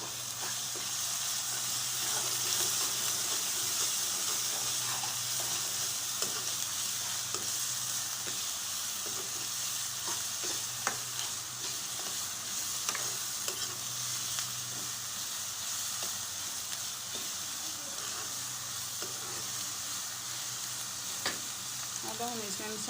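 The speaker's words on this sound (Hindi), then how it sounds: "अब हम इसमें टमाटर डाल देंगे। एक टमाटर था जो हमने चॉप कर लिया, और लहसुन और अदरक 1 चम्मच था," Onion, tomato, garlic and ginger frying in a pan for a stuffed karela dish, a steady soft sizzle with occasional stirring clinks and crackles, no talk.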